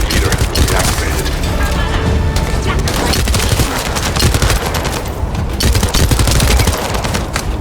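Dense, continuous gunfire from the sci-fi shooter game The First Descendant: rapid overlapping bursts and booming impacts fill the whole stretch at close range and high volume, with no talk over it.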